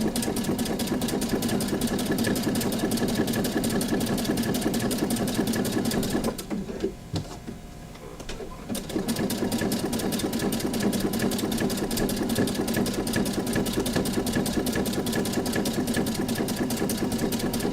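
A sewing machine stitches in a steady, rapid mechanical chatter close by, pausing for about two seconds before resuming at the same even pace.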